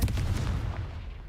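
A Confringo blasting spell bursts in Hogwarts Legacy, a dense low booming blast that rolls and fades over about a second, fairly loud and alone with no talk.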